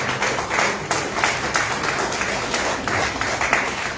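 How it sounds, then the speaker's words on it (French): Audience at a live Q&A event in Abidjan applauding a lecturer, a steady, dense wash of clapping that holds evenly for the whole stretch at moderate loudness, with faint voices beneath. "On va encore applaudir très fort pour notre conférencier."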